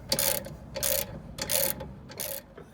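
A ratchet wrench loosening the top suspension arm bolt on a car, four bursts of rapid clicking with short pauses between, close and fairly quiet, with no talk.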